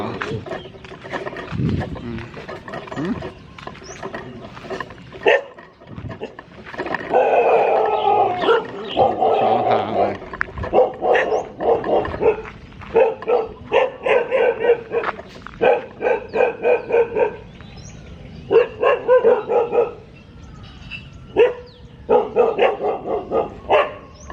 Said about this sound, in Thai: เห่าหนูทำไมวะ หนูทำอะไรให้เนาะเห่าหนูเนี่ย